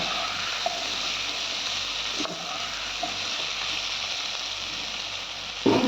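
Potatoes and tomato being mixed in a frying pan for a dry curry, giving a steady, fairly loud broadband sizzle throughout with a few light clinks of the stirring utensil and no talking.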